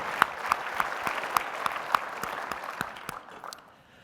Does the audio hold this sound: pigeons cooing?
no